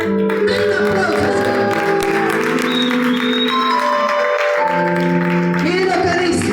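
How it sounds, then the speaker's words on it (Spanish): Congregation applauding in a church auditorium during a sermon, a steady wash of clapping lasting several seconds over sustained tonal music. "Den un aplauso."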